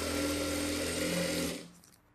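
A sewing machine edge-stitches the lining of a saree blouse in one short, steady whirring run that stops abruptly, leaving near silence.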